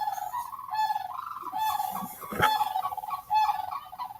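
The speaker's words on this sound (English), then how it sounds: "them birds are noisy this morning. Those are sandhill cranes behind me." Loud, rattling sandhill crane calls fill the air in Florida, repeated trumpeting notes overlapping from several birds, steady and close, with no talking.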